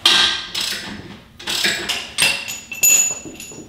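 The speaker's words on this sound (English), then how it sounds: "Take an 18 box wrench, just like that, ratchet up top, and" A ratchet and an 18 mm box wrench work a bolt loose on a steering stabilizer mount, giving a series of sharp metallic clanks and clicks in uneven bursts, close by.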